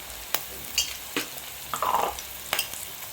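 Chopped onions and green chilies fry in oil for a mutton curry, a soft crackling sizzle with scattered scraping knocks from a spoon stirring the pan, close by and without any talk.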